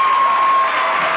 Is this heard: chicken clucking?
no